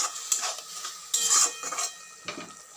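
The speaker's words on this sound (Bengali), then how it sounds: "আর জিরে গুঁড়ো অ্যাড করলাম করে নেড়ে চেড়ে কষিয়ে নেব" A utensil stirs turmeric and cumin powder frying in oil in a pan. Scraping and clinking come in irregular strokes over a faint sizzle, with no voices.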